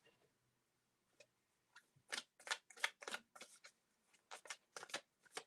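A deck of cards is shuffled close by in quiet surroundings, with a few soft taps first and then several rapid riffling bursts in quick succession.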